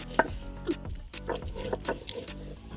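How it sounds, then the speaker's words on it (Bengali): Ripe mango flesh being mashed and ground by hand with a nora stone grinder, giving soft wet squelching knocks and scrapes at an irregular pace, close and fairly quiet. "নোড়া দিয়ে বেটে নিচ্ছে।"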